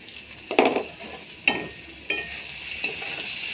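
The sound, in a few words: rice being stirred and fried in pan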